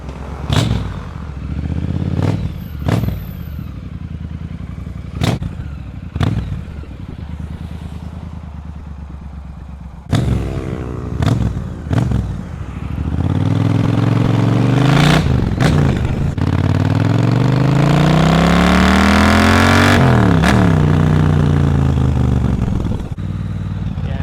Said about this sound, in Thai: เดี๋ยวผมจะขี่เทสให้ดูหนึ่งรอบนะ